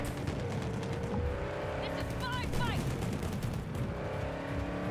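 A car driving in the video game Cyberpunk 2077 after its 2.1 update, with a steady engine drone and a short burst of tire squeal midway through.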